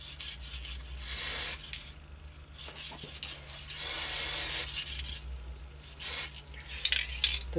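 Plasticoat Fast Dry Project enamel spray paint hisses onto a Matchbox Y-14 Duke of Connaught model casting in several short, loud bursts separated by brief pauses and faint handling noises.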